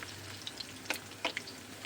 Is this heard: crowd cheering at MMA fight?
no